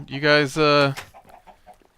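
Chickens in Minecraft give a couple of short clucks, close and clear, after a brief spoken phrase.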